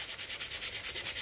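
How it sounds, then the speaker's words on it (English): Gentle hand sanding on a dented aluminium phonograph horn, quick rhythmic back-and-forth rasping strokes at close range, soft and alone. "Again, very gentle sanding"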